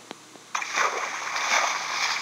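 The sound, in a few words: water splashing while crossing a river, Minecraft PE video game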